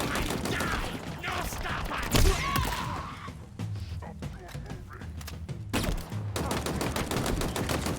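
Shotgun firing in Halo Infinite, a heavy blast followed by more rapid shots and mechanical clatter, loud and close among game sound effects, with a person talking over it.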